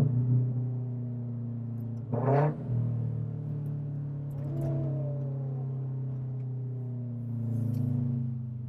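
A 2014 Scion FR-S Monogram Edition sports car's engine drones steadily from inside the cabin while downshifting, with a brief rising rev blip and low harmonic hum throughout; no talk.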